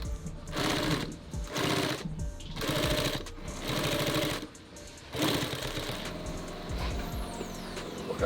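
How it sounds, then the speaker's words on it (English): A sewing machine stitching thick tactical belt material in a shop, running in rapid mechanical bursts separated by short pauses, close and clear. "Sewing through this belt material, is it a lot harder?"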